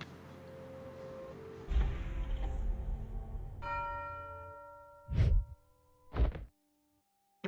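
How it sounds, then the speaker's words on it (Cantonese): A bell tolls in the video game A Bird Story: a low resonant clang with a lingering ringing tail, followed by two sharp, separate strikes spaced about a second apart, then silence. "好熟面口呢，呢個鐘聲"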